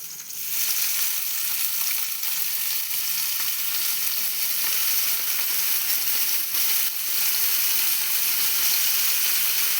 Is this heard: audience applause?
no